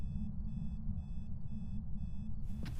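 Loud electronic alarm going off in the ghost-hunting game Phasmophobia: a steady run of about six short, evenly spaced beeping bursts over a low background hum, cut off by a scrape near the end.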